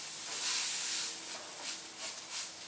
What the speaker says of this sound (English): Now we're producing steam.